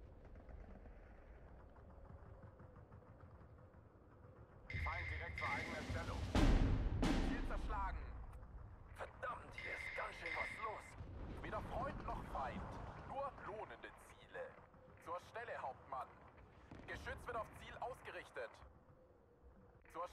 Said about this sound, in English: Mortaring my pack 40, that one.